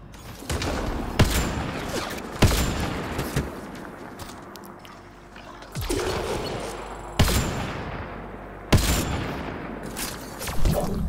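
Repeated gunfire from the video game Mass Effect Andromeda: sharp, loud shots in short bursts every second or so, separated by rumbling game ambience and scattered footstep-like thuds.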